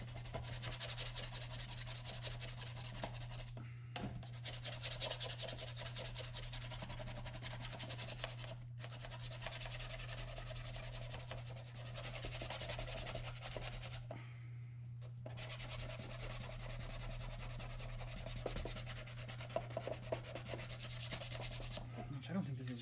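Wood being sanded by hand with sandpaper that is clogging up: long, steady rasping strokes in continuous runs, broken by a few short pauses, over a constant low electrical hum.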